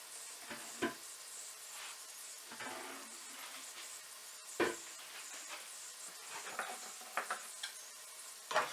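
Chiles being stirred into potatoes frying in a pan for carne con chile y papa, a quiet steady sizzle with occasional louder stirring scrapes and clatters, no speech.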